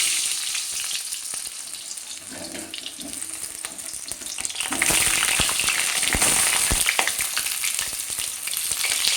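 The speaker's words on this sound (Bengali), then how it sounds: "এবার আমি আলুগুলোকে ভেজে নেব" Potato pieces fry in hot oil in a wok for a mutton and potato curry, giving a continuous bubbling sizzle that grows louder partway through, with no talking.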